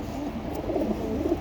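A clean, captured pigeon coos softly and close by in a low, rolling murmur, fairly quiet throughout with no voices.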